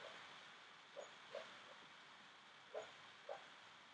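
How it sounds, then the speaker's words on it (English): Dog dreaming in another room, making four or five short muffled whimpers and yelps spaced irregularly over a quiet, faint background. "That is my dog from the other room dreaming very loudly."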